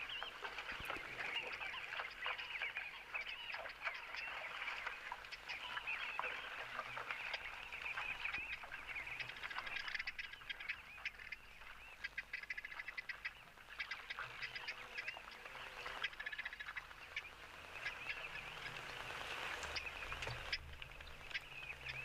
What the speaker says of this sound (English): as always, we can hear our guinea fowl